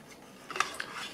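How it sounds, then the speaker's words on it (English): A metal spoon stirs a fish ration meal in a half-full steel canteen cup, giving a few faint, brief scrapes and light clinks over quiet background hiss. "Good stir."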